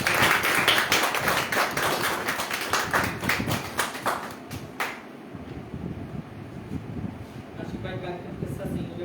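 An audience claps loudly at an event for about five seconds, a dense patter of many hands, before the clapping fades out and the room settles into quieter background noise.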